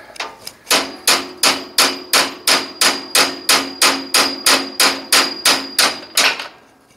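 A hammer drives a metal punch to extract a broken stud from a Brunswick A2 turret, about twenty evenly spaced ringing metallic blows in a fast, steady rhythm, close and loud, with no talk.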